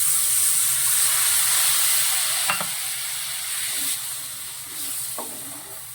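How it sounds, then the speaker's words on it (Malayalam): Water hits a pan of well-fried masala for a Bengali fish curry, raising a loud, steady hissing sizzle and steam that fades slightly over several seconds, with a few faint utensil clinks. "നമ്മുടെ മസാല നന്നായിട്ട് മൂന്നിട്ടുണ്ട് ഒരല്പം വെള്ളം നമുക്ക് ഒഴിച്ചു കൊടുക്കാം"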